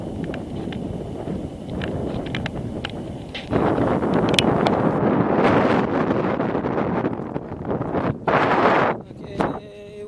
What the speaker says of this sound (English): we're hitting major wind here, so it's windy on the way back